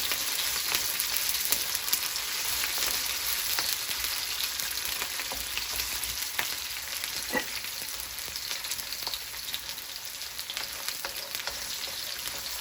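Scallion frying in oil for Jamaican-style steamed fish with okra, a steady bright sizzle with crackling spatters and a few stirring scrapes, close and continuous with no talking.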